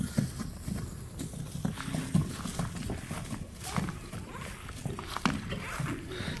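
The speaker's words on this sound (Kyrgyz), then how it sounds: "Ишен иним атты минип ары бери басып көрсөтөт" An unshod horse, a wrestler's mount used in ulak, walks back and forth under its rider, hooves clopping in an uneven rhythm close by, with a low murmur of background noise.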